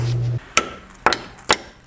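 Hammer blows on a 2005 EZGO TXT gas golf cart during brake service, four sharp metallic strikes spaced about half a second apart after a brief steady tone, close and loud with no talking.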